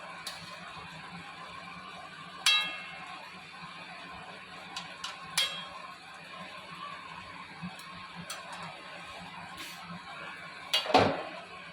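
A biryani cooking pot is set down on a gas stove while making potato biryani. A few light clinks come first, then one firm, close metallic clunk near the end, all against a quiet kitchen.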